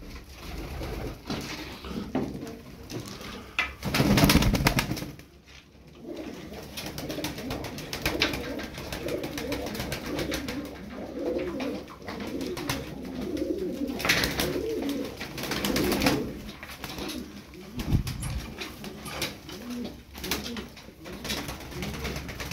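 Tumbler pigeons coo steadily in a loft, several birds overlapping in a continuous soft murmur of repeated low throaty calls, with occasional wing flutters and shuffling nearby.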